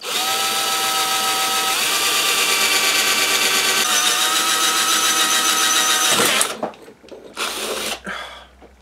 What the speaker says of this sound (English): And this is brass, so it's nice to drill through, there's no real problems.